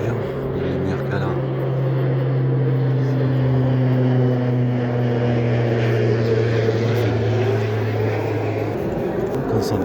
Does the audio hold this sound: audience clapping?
no